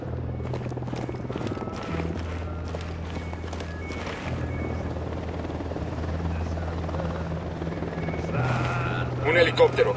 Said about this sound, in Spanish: Ahí está pasando el helicóptero justo.